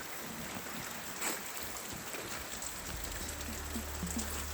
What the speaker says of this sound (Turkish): Bu arada yağmurlar da başladı.